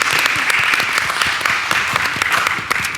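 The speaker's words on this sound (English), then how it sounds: "Have a round of applause." Applause at a school board of education meeting honoring the bowling team, a continuous crowd of hands clapping with crisp individual claps, moderately loud and steady from start to finish.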